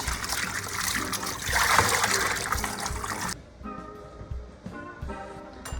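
Yukon Gold potatoes rinsed under running tap water, a steady trickle and splash of water over the potatoes that fades partway through, leaving quieter handling sounds.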